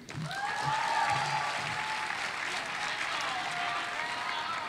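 An audience at the 2018 Claremont McKenna College commencement ceremony breaks into sustained applause, loud clapping that swells quickly and holds steady, with a few voices audible at the start.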